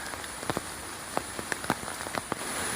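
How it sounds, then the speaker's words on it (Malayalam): Rain falls in a forest near a campsite, a steady hiss with scattered sharper drops tapping on surfaces, continuous and without voices. "നല്ല മഴ പെയ്യുന്ന സമയത്ത്"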